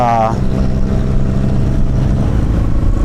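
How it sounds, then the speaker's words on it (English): A motorcycle engine rumbles steadily close behind a rider on the road, a constant low drone running the whole time without a break. "that's actually a motor behind me"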